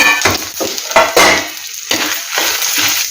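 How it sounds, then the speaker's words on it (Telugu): Spices, peanuts and curry leaves crackle and sizzle in hot oil in a kadai for a Telugu brinjal garlic curry, with loud close bursts of frying and stirring scrapes that ease briefly before sizzling again. "నూనె వేడెక్కింది పోపు వేసేస్తున్నాను"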